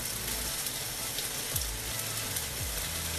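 Almond-breaded fish fries in a pan with a steady, close hiss and crackle throughout, plus a couple of soft low scrapes as it's handled; no voices.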